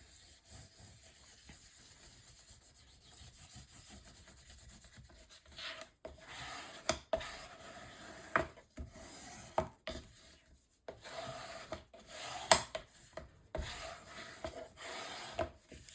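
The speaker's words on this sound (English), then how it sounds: "I'm going to burnish this down" Adhesive-backed paper being burnished down onto a mini album cover: soft, close rubbing and scraping strokes that grow firmer and more rhythmic, with occasional sharper taps and rasps on the paper surface.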